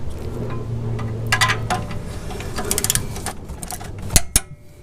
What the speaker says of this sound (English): Now he's got the torque wrench connected, and he's going to bring them up to 46 foot-pounds